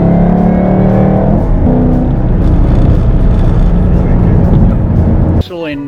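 A Ford GT500 driving on a test drive: loud, steady engine and road roar fills nearly the whole stretch, with a rising rev tone early on, then the noise cuts off abruptly near the end.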